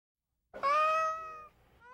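A single loud, drawn-out cry from an abused cat, close by, rising then tapering off, with silence before it.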